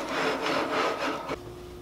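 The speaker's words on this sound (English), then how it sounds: "I'm gonna taper that down just a little more" Handmade wooden leg being tapered on a woodturning lathe, with a steady close rubbing, scraping cut for over a second before the tool lifts off and only a faint hum remains.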